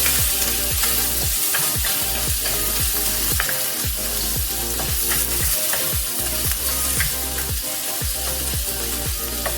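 Prawns sizzle steadily in a hot stir-fry pan, a continuous close frying hiss broken by regular scraping strokes of stirring throughout, with no talking.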